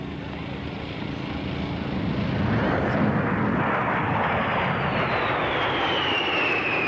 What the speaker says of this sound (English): B-52Hs still serving now in the conventional role.